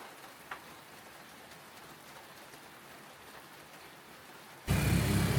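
Rain falling on a journey toward Bajawa in Flores, heard as a faint steady hiss that swells abruptly into a loud, dense downpour near the end.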